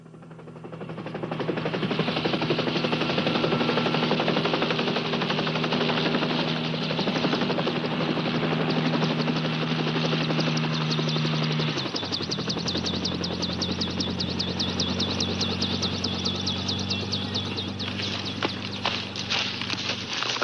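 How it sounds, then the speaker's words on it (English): A helicopter flies close and loud, its rotor chop a steady rapid beating over a droning engine that holds for the whole stretch and shifts pitch partway through. "the chopper's got all the weight she can carry"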